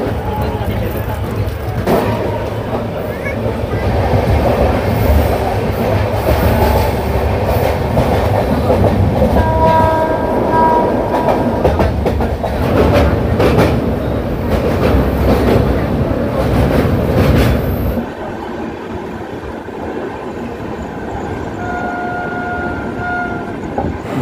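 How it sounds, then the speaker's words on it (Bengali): A passenger train pulls out of Sealdah station's platform 12 at night and runs on, with a loud, continuous rumble, rhythmic clickety-clack of wheels and brief horn tones, and voices talking inside the carriage. "ট্রেন শিয়ালদা স্টেশনের 12 নম্বর প্ল্যাটফর্ম থেকে"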